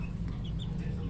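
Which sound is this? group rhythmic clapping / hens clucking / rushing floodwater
hens clucking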